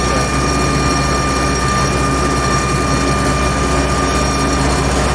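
A tractor pulls a PLN 3-35 plough across a field, its engine a loud, constant, unbroken drone.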